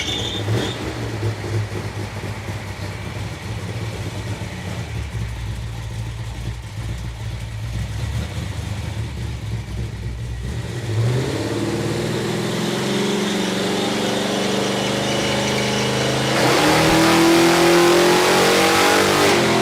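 Car engine with a full 3-inch exhaust and turbo muffler revving hard on a dyno, a loud sustained roar climbing in pitch, then rising further to a peak near the end.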